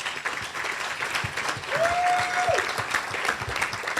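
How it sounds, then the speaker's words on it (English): Audience at a young professionals awards show in Manatee applauds steadily, a moderately loud, even patter of many hands, with a brief whistle-like tone partway through. "please give them all a round of applause"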